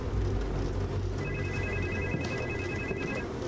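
A telephone rings inside a house at a crime scene: a faint, repeating electronic ring, heard partway through over a steady background rumble.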